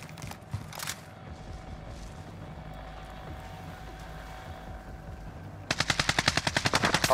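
Gunfire in the battle royale video game Warzone: a couple of faint early shots over a quiet ambient bed, then a loud, rapid burst of automatic fire toward the end.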